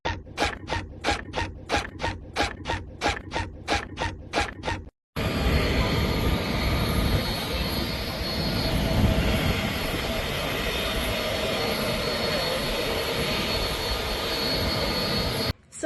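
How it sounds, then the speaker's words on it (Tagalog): A dense, steady roar of engine noise fills an airplane cabin during a flight toward Persia, continuous and loud for about ten seconds after a short burst of rhythmic clicks at the start. "nandito na ako sa aeroplano papunta ng Persia."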